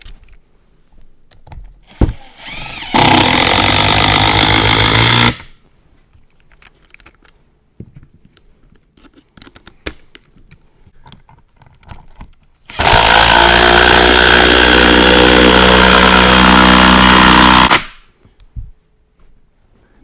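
A cordless impact driver runs in two loud, steady whirring bursts, the first short and the second about five seconds long. Quiet handling clicks and knocks fill the gaps between them.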